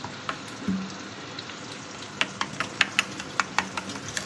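Steady frying sizzle as water is added to spiced potato masala in a hot pan, with a run of sharp crackles and pops toward the end, moderately loud and close, no voices.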